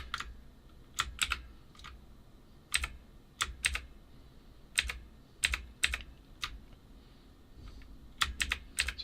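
Arrow keys on a Redragon VATA mechanical keyboard pressed one at a time, some in quick pairs, as sharp, close clacks spaced irregularly over a quiet background.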